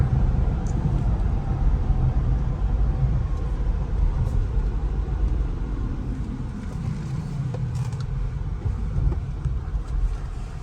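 Polestar 2 electric car accelerating hard from 0 to 60 in sport mode, heard from inside as a steady low rumble of road and tyre noise with a faint whine, loud and continuous with no engine note and no talk.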